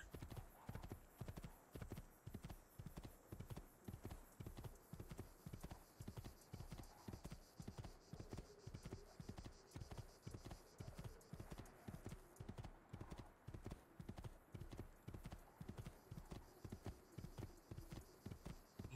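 Rapid, steady hoofbeats of a horse galloping in Assassin's Creed 2, a continuous rhythmic clip-clop running for the whole stretch, close and even, with no talking over it.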